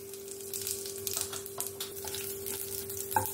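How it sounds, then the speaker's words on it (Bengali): Whole cardamom, cinnamon and a little cumin frying in hot oil as a tempering, giving a steady soft sizzle and crackle close by with a few brief pops, no voices. "এখানে আমি ফোড়নে দেব গোটা গরম মশলা। গোটা গরম মশলার মধ্যে এলাচ আর দারচিনি আর একটু সামান্য পরিমাণে জিরে।"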